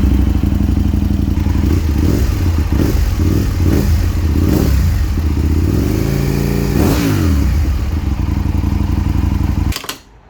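A V-twin motorcycle engine idles loud and close with a thumping, uneven beat, blips of the throttle rising and falling midway, then cuts off abruptly near the end.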